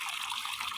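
Toy animals, including a crocodile, being washed under running water, a brief soft splashing gush close by.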